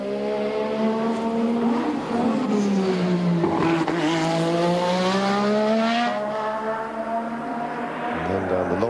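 A 1450bhp BMW turbo Formula One race car drives on a track, its loud engine note rising and falling steadily throughout, close and unbroken.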